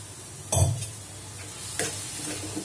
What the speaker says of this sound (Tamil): இது எல்லாத்தையும் ஒரு ரெண்டு நிமிஷம் நல்லா வதக்கணும்